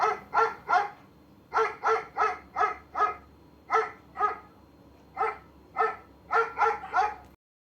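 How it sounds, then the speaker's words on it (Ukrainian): A dog named as a guest on a children's programme barks in quick close bursts, mostly in pairs and runs of three or four, with short gaps between, clear and alone. "у нас сьогодні в гостях собака"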